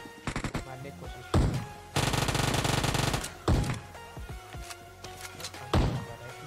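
Bursts of automatic gunfire in the PUBG Mobile video game, rapid loud rattling volleys and single sharp shots, one long sustained burst in the middle, all close and punchy.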